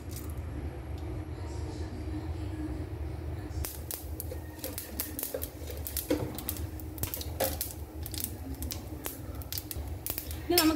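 Mustard seeds spluttering in a teaspoon of hot ghee in a heated pan for a Palakkad rangayyan dish: after a quiet stretch, rapid irregular crackles and pops break out and keep going, fairly close, with faint talk beneath.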